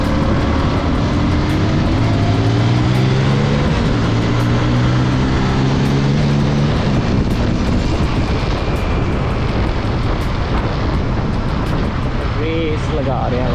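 A Kawasaki Ninja 1000 and a Kawasaki Z900 superbike race along a road in Jammu, engines roaring loud and continuous with rising revs and wind rush, while a voice talks over them.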